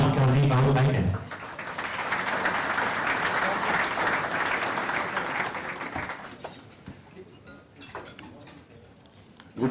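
An audience at a gala dinner breaks into applause for a keynote speaker, a broad wash of clapping that holds steady and fades, with dishes clinking faintly beneath; a voice is heard briefly at the start.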